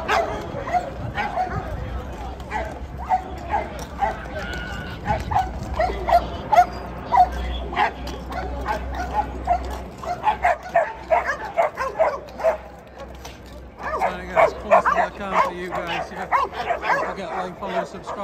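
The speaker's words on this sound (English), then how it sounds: "We've got police dogs." Police dogs bark and yelp repeatedly at a street clash between Sunderland and Newcastle football fans and police on derby day, with excited bursts over crowd noise and people talking.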